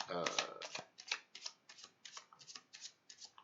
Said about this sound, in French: comme pour tout jeu, on commence par bien mélanger les cartes